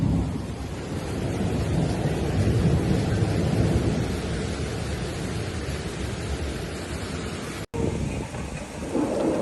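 Heavy rain pours steadily through a thunderstorm over Paris, a dense, continuous roar with deep rumbling low down. The downpour has a brief cut near the end and carries no voices.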